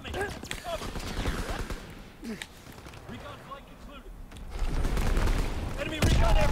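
Grenade explosions in Call of Duty WW2 burst amid scattered gunfire and clatter, a few heavier booms building toward the end, with voices talking over the action.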